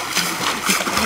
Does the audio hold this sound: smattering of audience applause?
no